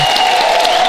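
Brief burst of audience applause at a stand-up comedy show in Rostov, many hands clapping loudly and continuously for under a second.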